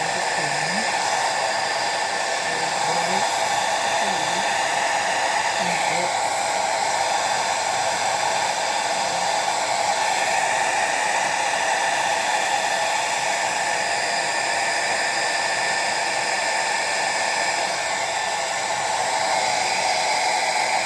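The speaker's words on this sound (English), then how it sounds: "I'm gonna go with the hair dryer again." A hair dryer blows steadily on glue during a wig installation, a continuous close-up whooshing hum with a constant tone that holds unchanged throughout with no talking.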